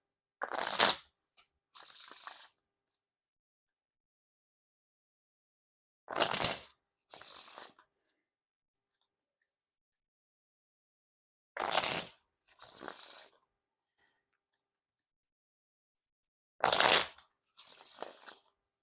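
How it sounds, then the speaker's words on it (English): A new deck of Bicycle Odyssey playing cards is riffle shuffled and bridged four times, each a crisp fluttering rip followed by a softer cascade, separated by silent pauses, close and clear with no talking. "Now time for the riffle shuffle or bridge shuffle."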